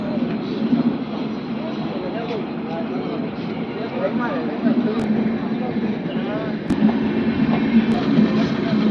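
A train rolling along a railway line nearby, giving a continuous rumbling drone with a few sharp clicks. Several people talk over the noise throughout.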